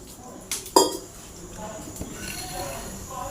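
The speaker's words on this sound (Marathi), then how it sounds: "आता इथे गॅसवरती मी कढई ठेवलेली आहे।" A metal kadhai is set down on a gas stove, giving a single sharp clank with a brief metallic ring, followed by quiet kitchen rustling and faint background sounds.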